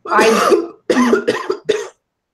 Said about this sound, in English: I'm just coughing, choking on my own spit.